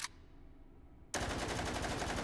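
A Czech firearm fires on full auto in the VR shooter Hot Dogs, Horseshoes & Hand Grenades: one sharp shot, a quiet second, then a loud continuous rapid burst that runs to the end.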